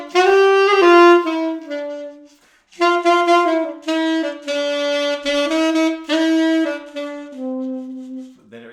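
The second section of a song melody is played on a sustained, reedy melodic instrument, in a run of held notes with one short pause partway through, loud and close with no talking.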